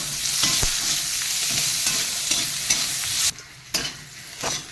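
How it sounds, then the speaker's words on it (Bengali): Onions fry on high flame in a pan while being stirred and tossed, a dense continuous sizzle with scraping strokes, then briefly quieter before the sizzling resumes. "পেঁয়াজটা একটু ফ্রাই করে সব কিছু ভাজায় আমাদের হাই ফ্লেমেই ভাজতে হবে শুধু একটু টস করে দিলেই হয়ে যাবে"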